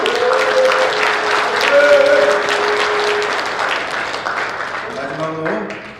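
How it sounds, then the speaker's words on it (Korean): Applause from an audience at a Korean political special lecture event in Sokcho, a broad steady wash of clapping that fills the clip, with some tonal voices and music-like lines mixed in and fading slightly toward the end. "큰 박수 부탁드립니다."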